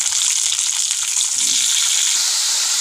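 Long brinjal pieces fry in a pan with cumin and curry leaves, a steady close hiss of sizzling oil running throughout with a faint stir partway through.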